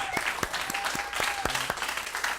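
A live show audience applauds steadily for a couple of seconds, dense clapping filling the room at moderate volume.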